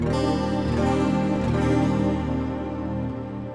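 An electric guitar through a Line 6 Helix multi-effects processor plays a short sustained chord phrase, rich and harmonic, ringing out and fading slightly at the end.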